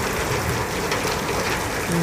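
Water spraying at a carwash, a steady dense hiss like heavy rain on a surface, continuous and moderately loud with no pauses.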